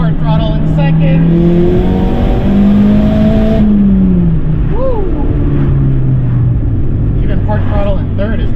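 Tuned Mazdaspeed 3 accelerating at part throttle in second gear, engine drone climbing steadily in pitch then easing off, heard loud and close from inside the car with a voice over it.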